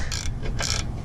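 Two short bursts of ratchet clicking while a wrench works loose a rear differential mount bolt, close and fairly quiet, separated by a brief pause.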